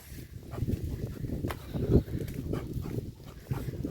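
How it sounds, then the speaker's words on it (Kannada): A dog is present nearby in a small village home garden amid light rustling and movement, with one brief sharper sound near the middle; no clear barking stands out. "ನೋಡಿ ಇದು ನಮ್ಮ ನಾಯಿ"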